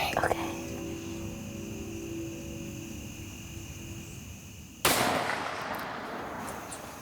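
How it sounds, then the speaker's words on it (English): A single loud rifle shot rings out while hunting rabbits in open country, a sharp broadband crack near the end of a quiet outdoor stretch of low wind, with a short rolling tail after it. "Just slowly squeeze the trigger like we practiced"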